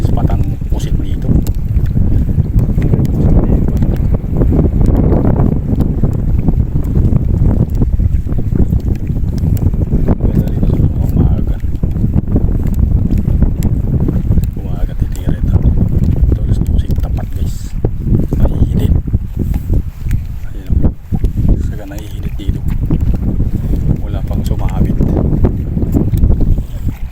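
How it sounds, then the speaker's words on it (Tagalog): Strong wind buffets the microphone continuously over open sea water off Al Reem Island, Abu Dhabi, a loud roaring rumble with gusts rising and falling throughout. "Malakas ang hangin guys."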